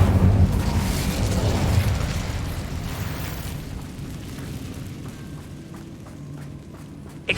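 An Incendio fire spell cast in Hogwarts Legacy, heard as a loud, rumbling whoosh of flame that bursts up and then slowly fades, with a short sharp pop at the very end.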